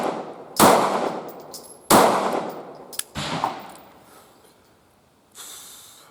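A Taurus GX4 pistol fires three sharp, loud shots spaced about a second apart, each trailing off in a short echo. A softer hiss follows after a pause.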